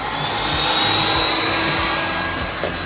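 A heat tool blows a steady, loud rush of hot air at close range over a package, a continuous whooshing roar with a faint high whine running through it.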